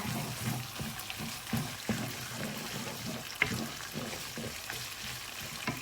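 Crispy catfish stir-frying in hot oil in a wok gives a continuous sizzle and crackle close up, with occasional clinks and scrapes of a spatula against the pan.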